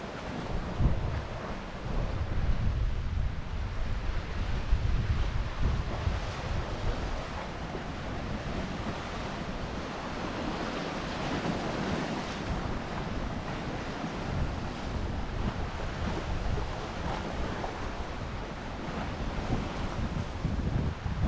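Steady roar of Mediterranean surf at Sant Elm, Mallorca, with choppy waves and occasional bigger ones washing onto shore, mixed with gusty wind buffeting the microphone, continuous and fairly loud throughout.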